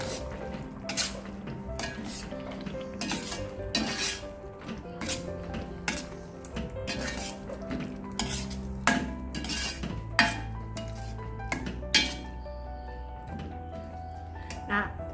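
Tomato-based sambal paste cooks in a pan while a utensil stirs and scrapes it, making repeated clinks and scrapes against the metal over a soft sizzle, with someone speaking Indonesian throughout.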